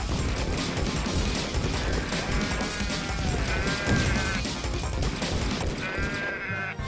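Sheep bleat several times in the video game DEEEER Simulator over a loud, dense wash of game noise and crashing effects, the calls wavering and nasal.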